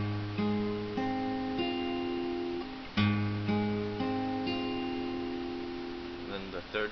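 An acoustic guitar strums an F-shape chord, the notes struck twice and left to ring and decay, played close and clear with no talking over it.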